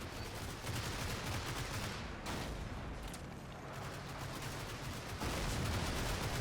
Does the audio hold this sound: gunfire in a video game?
yes